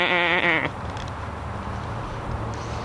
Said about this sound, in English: these are the little mini goats here.